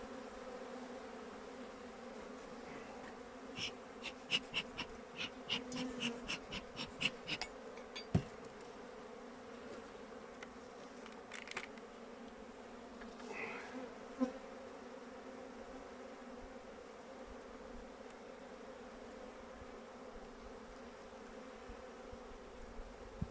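Honeybees buzz steadily around an open beehive during winter maintenance in February, a low, faint drone with brief louder passes of single bees close by and no talking.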